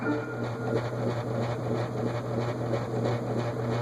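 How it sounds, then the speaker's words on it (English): A Hunter Type 52 adjustable, mechanically reversible ceiling fan gives off a steady resonant motor hum with a constant low drone and faint airy whoosh, carried through the blades and ceiling, close and continuous with no talking. "what we hear is resonant noise from the motor, resonating on both the blades and through the ceiling"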